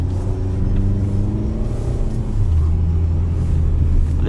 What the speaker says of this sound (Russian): Сейчас смотрите, вот стоим на горочке и стартанем.